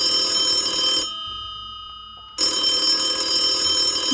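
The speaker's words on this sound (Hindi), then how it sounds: "फोन की लगातार घंटी से राम सिंह का नशा टूट गया।" A telephone rings on and on in a quiet room, its bright steady ringing filling the first second, breaking off into near silence, then resuming loud and continuous.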